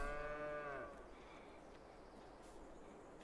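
Cattle in the farming game Landwirtschafts-Simulator 22 give a single drawn-out moo, close and clear for about a second, then fade into quiet farm ambience.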